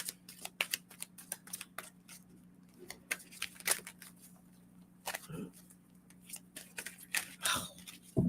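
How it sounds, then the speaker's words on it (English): Oracle cards being shuffled by hand, a series of sharp papery riffles and snaps in irregular bursts over a low steady hum, close and fairly quiet, with no talking. "That didn't feel like a good shuffle"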